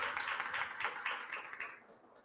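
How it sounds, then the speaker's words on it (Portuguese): An audience at a corporate panel debate gives a short round of applause for a guest, with quiet, fairly distant clapping that tapers off within about two seconds. "Uma salva de palmas."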